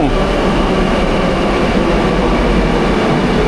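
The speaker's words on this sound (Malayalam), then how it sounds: "അയ്യോ ട്രെയിൻ വന്നു." A metro train rolls into a station with a loud, steady rumble and hiss that fills the space evenly, close by and unbroken.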